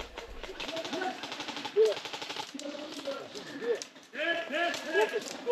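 Rapid bursts of automatic gunfire from a video game battle, with the fight playing out on a hillside near a forest; the shots come as dense, continuous clattering volleys at moderate loudness across the whole stretch.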